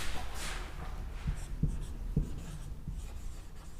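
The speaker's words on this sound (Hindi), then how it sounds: "तो चलिए अब हम लोग उसको लिखते हैं" A pen writes notes by hand on paper, quiet scratchy strokes with a few distinct taps over a steady background hum.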